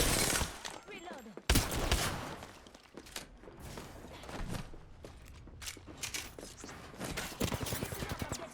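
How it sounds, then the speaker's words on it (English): Gunfire in the Apex Legends shooter, sharp bursts and single cracks scattered through the stretch, one loud blast early, rapid automatic volleys near the end, with mechanical clicks and footsteps between shots. "Listen up, I'm getting shot at."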